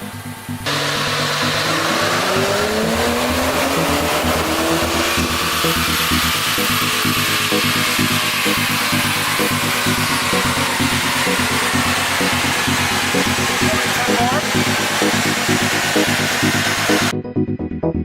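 A car engine on a dyno runs hard through its exhaust, a loud sustained roar with rising pitch in the first seconds, then holding a strong steady drone before cutting off abruptly.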